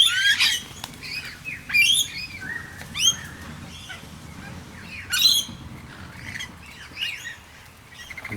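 Birds at a bird sanctuary in Moorooka squawk and chirp in sharp, repeated bursts, some close and loud, others softer, alone with no talk over them.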